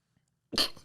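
A single person sneezes once, close and loud: a short, explosive burst after a moment of near silence.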